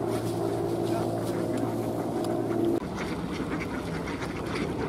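Wintering ducks on a pond in Tsarskoye Selo crowd in to be fed oat flakes, with quacking and water splashing at close range over a steady background drone, and voices talking now and then.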